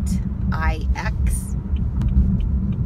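Interior drone of a BMW 328iX being driven, a steady low engine and road rumble throughout, with someone talking over it.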